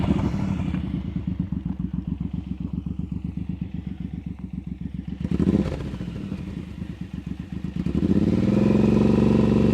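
A motorcycle practicing slow-speed turns holds a steady, throbbing engine note with rhythmic pulsing throttle, dipping briefly then rising again as the rider stays on the gas, close and alone.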